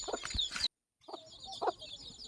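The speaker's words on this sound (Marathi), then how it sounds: "प्युअर गावठी पिल्ले कोंबडीने काढलेली खूप छोटी छोटी पिल्ले आहेत" High-pitched cheeping of three- to four-day-old country-hen chicks close by, with some soft clucking, broken by a brief moment of silence.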